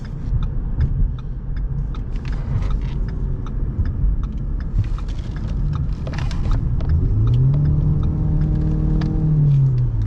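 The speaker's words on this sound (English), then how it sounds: "we're gonna get on the freeway because people want to see this car drive" A 2013 Ford Fusion Hybrid SE driving at speed on a freeway with a constant low road rumble and engine drone; a rising then steadying tone suggests acceleration, with no talking.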